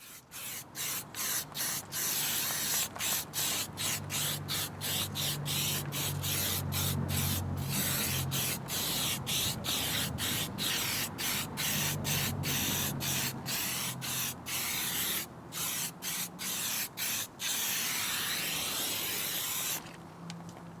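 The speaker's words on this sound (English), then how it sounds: "the rusty slick was liberally sprayed directly onto the tyre walls until that classic wet look was achieved" A tyre shine product called Rusty Slick is sprayed liberally onto car tyre walls, a long series of loud, close aerosol-like bursts separated by short gaps.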